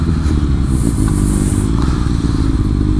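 A Kawasaki Ninja ZX6R supersport motorcycle ridden with a quick shifter, its engine droning steadily and loudly close by, with some rattling and wind noise over it.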